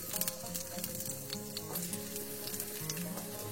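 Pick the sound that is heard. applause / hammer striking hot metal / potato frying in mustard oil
potato frying in mustard oil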